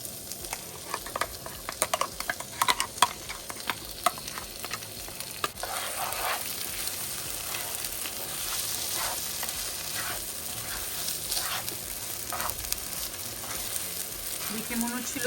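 Boiled ivy gourds sizzle in a large frying pan as poppy seeds go in, with scattered clatter of stirring early on giving way to a steady, close frying hiss.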